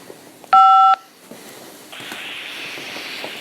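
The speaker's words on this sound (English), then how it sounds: "to accept, dial 5 now" A single loud telephone keypad tone sounds for about half a second as a key is pressed to accept a collect call from a prison, followed by a quieter steady line hiss.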